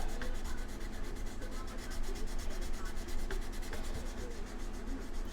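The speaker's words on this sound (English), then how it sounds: "We got so much sanding to do." Near, continuous rhythmic rasping of sanding on an AMT USS Enterprise model kit, quick even back-and-forth strokes repeating steadily throughout without speech.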